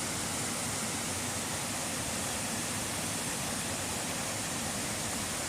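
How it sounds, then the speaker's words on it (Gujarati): Water pours continuously over a check dam near Dharnath Mahadev temple, a dense, even rushing roar with no breaks, steady and fairly close throughout. "ચેક ડેમ અત્યારે પાણી અવિરત ચાલુ છે"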